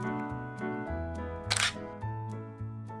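A camera shutter clicks once in a forest in Andong, Gyeongbuk, a short crisp snap that stands out over steady background music.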